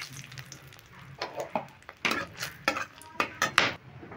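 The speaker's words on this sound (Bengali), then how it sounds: "ফোড়নটা ভালো করে ভেজে নিলাম" Whole bay leaf, cardamom, clove and cinnamon frying in a little hot oil in a pan, with soft sizzling broken by several sharp clinks and scrapes of a spoon stirring against the pan.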